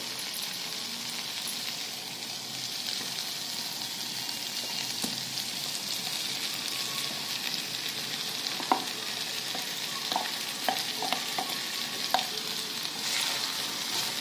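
Cooked rice sizzles in masala in a kadhai for a quick pulao, a steady close frying hiss with scattered light spoon taps and scrapes as it is stirred, no voices.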